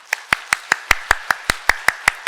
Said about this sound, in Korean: 인사할 때 크게 박수 한번 하시겠습니다